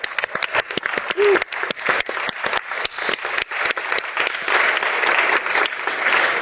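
An audience at a refractive surgery best-papers session breaks into applause, a fairly loud burst of many hands clapping that starts sharp and settles into steady, dense clapping, with a brief voice near the start.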